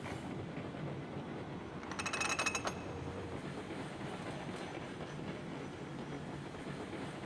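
Long train with a caboose in the Railroads Online video game rolling steadily, a low continuous rumble with a brief burst of clinking and clacking from the wheels and couplings partway through, no talk.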